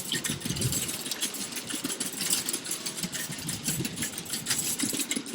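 A car engine hums steadily while driving home, a close, continuous drone with fine rapid texture and no speech.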